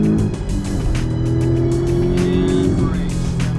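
Porsche sports car engine pulling hard on a track near Los Angeles, a loud steady low growl that climbs in pitch through the gears, with people talking over it.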